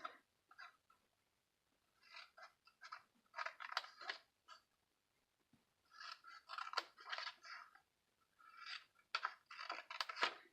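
Scissors trim cardstock paper up to a score line while making a treat holder, giving bursts of crisp snipping and rustling cuts in three clusters separated by short pauses, close and fairly quiet.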